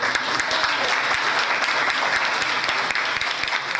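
An audience at a homeopathy case presentation breaks into brisk, continuous applause, many hands clapping in a dense patter at a steady level throughout.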